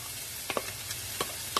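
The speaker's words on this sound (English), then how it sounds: "we're going to go ahead and throw those in. You can hear it sizzle" Jalapeno pieces sizzle in hot olive oil in a pan, a soft steady frying hiss with a few light stirring clicks and scrapes, faint and close with no voices.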